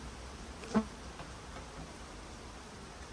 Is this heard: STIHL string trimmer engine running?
no